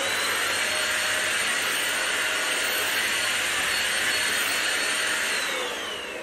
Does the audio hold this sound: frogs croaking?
no